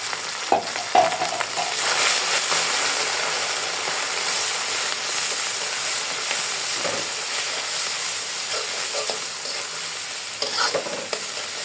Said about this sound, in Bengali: রসুন কুচিটাকে আমি ব্রাউন করে ভেজে নিব। তারপর শাকগুলো দিয়ে দিব।